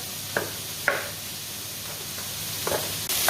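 Vegetables and peppers roasting in a single pot for a meatball dish, a soft steady sizzle with a few sharp knocks and scrapes of stirring scattered through it, close and fairly quiet.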